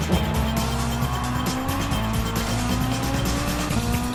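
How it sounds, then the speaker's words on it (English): A Ferrari-engined race car roars close by, its engine note rising and dropping through gear changes, with a harsh whining gearbox over steady loud motor noise. "That's a loud gearbox on that car."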